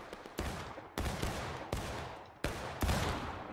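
Four loud, sharp musket volleys crash out in quick succession in the Civil War shooter War of Rights, each blast trailing into a long rumbling echo with scattered shots in between.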